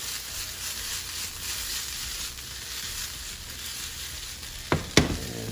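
Chopped basil is tossed with potatoes and cherry tomatoes in a hot pan, giving a steady soft sizzle that ends in a couple of sharp clatters of the pan being shaken.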